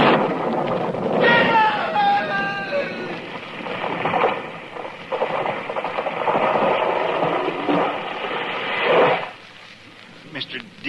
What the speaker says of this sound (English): It was lightning. It struck the tree.